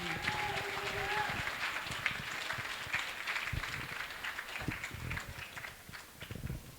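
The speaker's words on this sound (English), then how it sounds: "can you give them a round of applause?" An audience at a 2019 relationship talk event gives a round of applause, with dense, steady clapping filling the whole stretch as a voice speaks over it.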